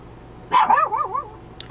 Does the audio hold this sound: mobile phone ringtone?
no